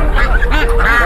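Ducks quack loudly and repeatedly at a poultry market, several birds overlapping in a busy, close chorus of nasal calls.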